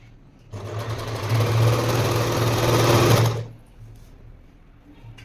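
An Usha stitching machine runs on cloth in a close, loud burst of motor whir and needle chatter lasting about three seconds, then stops.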